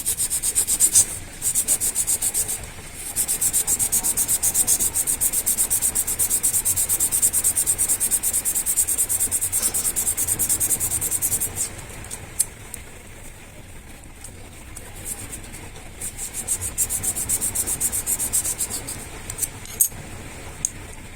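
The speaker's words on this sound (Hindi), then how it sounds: "अभी इसको इस सैंड पेपर में घिसेंगे अच्छे से।" MTB hydraulic brake part rubbed on sandpaper in a long, continuous scraping run, with a brief pause near the start and another dip midway before the rubbing resumes.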